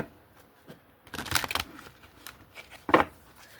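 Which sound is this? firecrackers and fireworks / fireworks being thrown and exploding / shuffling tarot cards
shuffling tarot cards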